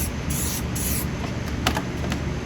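Clear coat hisses from a spray can onto a jewelry display stand made from fallen tree branches, a close continuous spray with short bursts and pauses.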